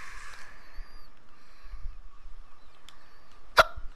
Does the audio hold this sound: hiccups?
yes